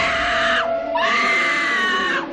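A woman's long, piercing scream from a horror film chase scene, sustained at full loudness, breaking briefly for a breath and then rising again into a second drawn-out shriek.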